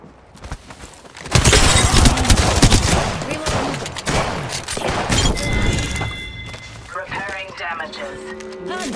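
Rapid gunfire erupts in an Apex Legends match, dense bursts of shots and impacts layered with game effects, loud and close, followed by quieter clatter and electronic tones.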